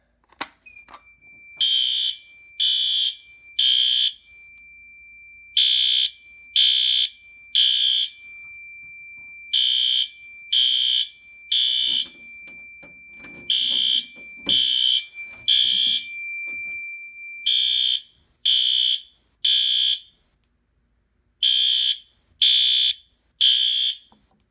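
A Fire-Lite MS 9200UDLS addressable fire alarm panel sounds at low volume in code 3, giving repeated groups of three shrill tonal pulses with short pauses between groups. It runs steadily and loud for the whole stretch, with faint background shuffling partway through.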